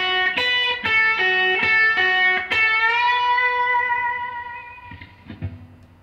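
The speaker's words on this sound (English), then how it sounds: "how I get that sound is just to tremolo pick the riff." Electric guitar tremolo-picking a fast blues lick, rapid repeated picked notes stepping through a riff before ringing into a long sustained bend that slowly fades, played loud and alone with a slightly distorted tone.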